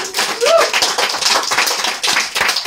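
Audience applause at a tribute concert, a dense spread of clapping filling the hall, steady and fairly loud with a brief tonal voice-like trace early on.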